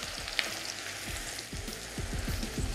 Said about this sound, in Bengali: এবার একটু ধৈর্য ধরে আপনাদের এই পেঁয়াজটাকে ভালো করে ভেজে নিতে হবে, একদম লাল লাল করে ভাজতে হবে।